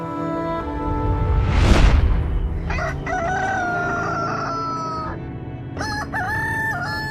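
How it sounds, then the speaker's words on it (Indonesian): After a brief whooshing swell, a rooster crows loudly nearby, then starts a second crow that breaks off; no talking. "Bunyi suara yang berkokok."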